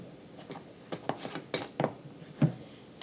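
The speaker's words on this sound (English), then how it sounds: "Give that a little stir." Cinnamon sugar filling stirred in a bowl with a spoon, giving a string of light ticks and clinks, scattered and irregular, close by over a quiet room.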